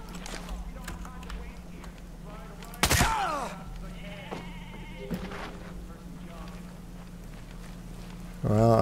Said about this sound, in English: Hello, little sheep.